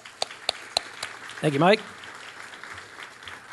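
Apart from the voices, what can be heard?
audience applause for Mike McNally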